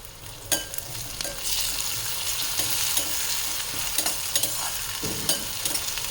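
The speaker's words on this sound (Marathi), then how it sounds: "कांदा होत आलेला आहे त्यात मी टोमॅटो टाकते" Tomatoes added to nearly cooked onions fry in a hot pan for a Khandeshi toor usal, a steady close sizzle with repeated sharp spoon-stirring scrapes and clicks throughout, no talk.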